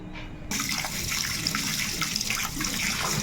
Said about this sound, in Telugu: ఇదైతే చక్కగా మనం ఇప్పుడు కడిగేసుకుందాము బియ్యాన్ని